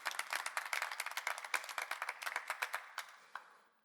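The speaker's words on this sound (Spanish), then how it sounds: "¿Cuándo le pueden dar un aplauso fuerte al Señor?" A church congregation breaks into loud, sustained applause, dense overlapping claps that thin into a few scattered final claps before fading to quiet.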